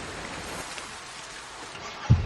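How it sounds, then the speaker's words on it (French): Light rain falls outdoors as an even, soft hiss, with a single dull thump near the end and no speech. "En plus, il ne pleut même pas si fort."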